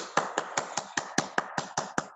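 Applause at the close of a meeting: a quick, evenly spaced run of about a dozen crisp claps, fairly quiet and with no talking over it.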